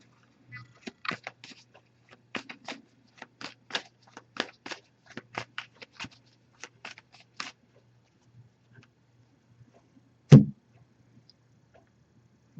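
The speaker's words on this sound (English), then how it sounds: "I'm just going to give this a few shuffles, put the deck down, and we'll pull a card" A Wisdom Oracle card deck is shuffled by hand in a quiet room: a quick run of soft, crisp card clicks and riffles, then a pause and one sharper thud as the deck is set down.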